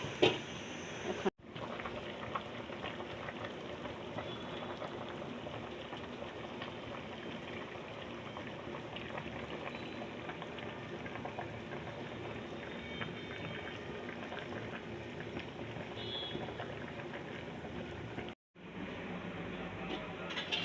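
Gourd and fish-head curry simmers in a covered pot with a continuous low bubbling hiss, broken by two brief lid knocks near the start and end.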